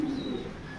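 Racing pigeons in a loft give a low, steady coo, close and continuous, with a faint thin chirp above it and no talking.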